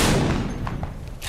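A burst of gunfire in Apex Legends on PS4, a heavy loud blast at the start followed by a few fainter, spaced shots as the sound trails off.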